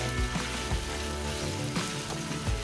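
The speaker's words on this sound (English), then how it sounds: "we're just gonna saute those for about 5 minutes in the same pot" Chopped pieces sautéing for a rabbit recipe in an Instant Pot pressure cooker, a close, continuous sizzle and crackle with occasional soft stirring thumps.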